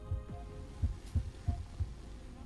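Steady heartbeat thumps in Honkai Star Rail, low and regular, roughly one beat every third of a second, with a faint hum underneath and no talking.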